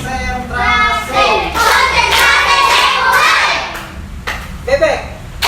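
Children in a classroom clap hands in a counting game, a few quick claps mixed with children's voices and chatter, the clapping close and moderately loud.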